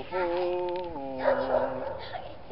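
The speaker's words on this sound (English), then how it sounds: "This dog is far from temperate." A small, rambunctious dog yips and barks in a run of high, whiny harmonic cries that shift pitch partway through, fairly close and loud, with some background noise.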